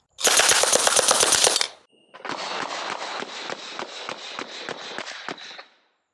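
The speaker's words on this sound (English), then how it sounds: "It's going to be coming out in what we call fast semi-auto out of the Sten here" A Sten gun fires 115-grain rounds in fast semi-auto at an armored car seat organizer: a loud, close opening burst of rapid shots, a brief pause, then a longer string of evenly spaced cracks.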